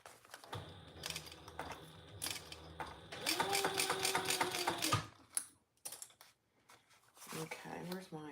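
A sewing machine stitching in a zipper runs in bursts of rapid mechanical whirring and needle clatter at close range, pausing between runs, with someone talking in between.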